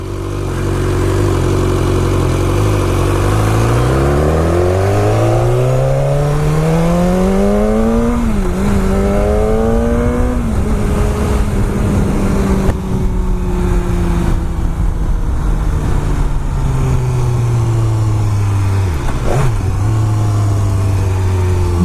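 A BMW S1000R motorcycle fitted with a Wunderlich touring screen accelerates hard after a U-turn. The loud, close engine note climbs steeply in pitch, drops briefly at each gear change, then keeps pulling with a steady roar.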